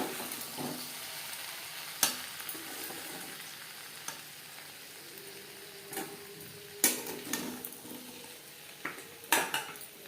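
Cooked potato and pointed gourd are scraped from a pan into a bowl, with soft background sizzle, scattered metallic clinks of a spatula and several sharper knocks against the cookware.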